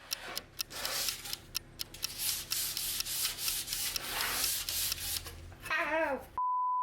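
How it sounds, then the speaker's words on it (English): Close rhythmic rubbing of sandpaper by hand inside a groove cut in walnut wood, repeated short strokes with brief pauses, ending in a steady electronic tone. "This piece, though, seemed to have other ideas when it came time to hand sand inside the groove."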